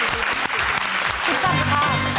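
Audience applause at a French televised talent show, a short burst of clapping with some voices mixed in and a low musical tone rising underneath toward the end.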